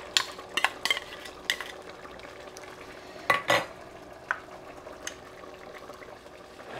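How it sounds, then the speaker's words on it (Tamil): Homemade ground masala is stirred into a simmering crab gravy, giving a few quiet scrapes and light utensil clinks against the pot, with short bursts separated by soft bubbling. "இப்போ நான் அரைச்சி வச்ச இந்த மசாலாவை சேர்க்க போகிறேன்."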